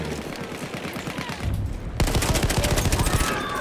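Rapid gunfire in Battlefield 1 while under sniper threat, a loud dense rattle of automatic shots, briefly quieter then surging into a continuous close burst.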